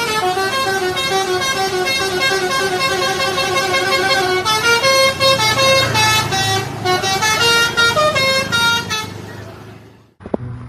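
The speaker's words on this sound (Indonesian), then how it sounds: "Kali ini ada bus Sudiro Tunggak Jaya teman-teman." A Sudiro Tunggal Jaya bus honks a loud, sustained musical horn melody as it rolls past with a rumbling engine, then a sharp clack as it leaves.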